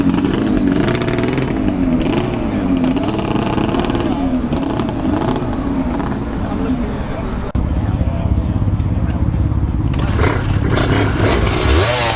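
A Yamaha LC2 two-stroke motorcycle engine running close by at Ace Cafe London, a steady buzzing drone with wavering revs and a brief change in tone near the end, over loud background noise.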